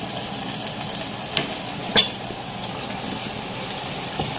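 Garlic ginger paste sizzles with onions in a clay pot for beef kunna, a steady bright frying hiss broken by a few sharp pops and stirring clicks, one louder crackle near the middle, no voices.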